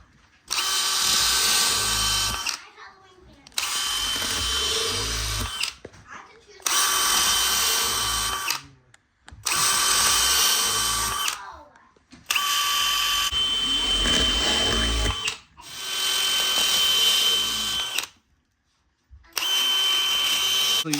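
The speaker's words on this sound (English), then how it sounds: "take a 3/16 drill bit, put it in one of your trusty drills, and start drilling out your pattern" A power drill with a 3/16-inch bit whines in about seven loud bursts of a couple of seconds each, drilling holes into a tire, separated by short silent pauses, close to the microphone.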